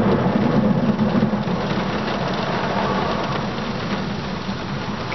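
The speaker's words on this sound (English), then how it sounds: "it's raining hard" Heavy rain pours down steadily in a dense, continuous hiss, close and loud, with a faint low rumble underneath.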